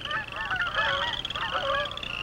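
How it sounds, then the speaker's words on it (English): Canada geese calling on the prairie among wheatland and marsh in spring, a steady overlapping chorus of honks carrying across open ground at a moderate distance, continuous throughout. "Canada geese return from their southern wintering grounds."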